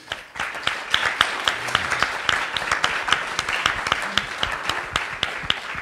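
Audience applauding after a report, a dense patter of many hands clapping steadily and close by, with no talk over it.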